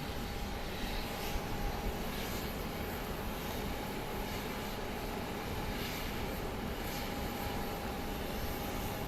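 A Delta Connection plane arrives at Phoenix Sky Harbor airport, a steady broad engine roar heard from a distance at a constant level throughout, with no talk.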